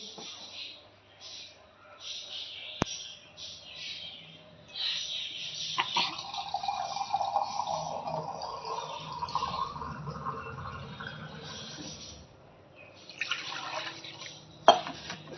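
Water from rinsing a mixer jar is poured and splashes into a pot of chicken curry with trickling and dripping, joined by a few clinks of utensils and some talking.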